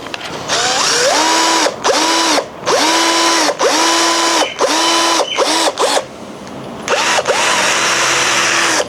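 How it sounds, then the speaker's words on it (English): An electric drill spins a drill-to-jigsaw converter in repeated bursts, each whine ramping up, holding, then stopping, close and loud with short gaps between runs. "Let's see what happens if we put this drill on it."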